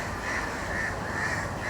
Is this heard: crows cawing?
yes